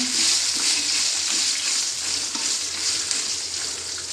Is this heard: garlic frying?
yes